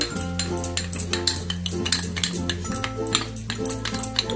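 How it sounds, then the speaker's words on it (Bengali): Spoon stirring cornflour into water in a bowl, a quick run of rhythmic scraping and light clinks, close up, heard alone. "এবার এটাকে জলে গুলে নেব।"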